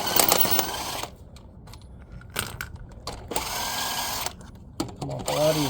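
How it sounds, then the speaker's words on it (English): An impact drill whirs in several short bursts close by as it removes the rear shock absorber bolts on a Dodge Durango, with pauses of quiet between the runs. "Now we're going to use an impact drill now to take these off"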